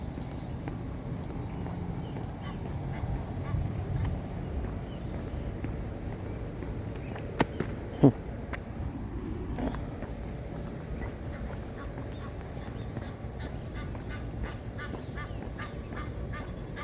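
A goose honks somewhere in Breckenridge Park, a few faint honks set against steady outdoor ambience, with a couple of sharper knocks partway through.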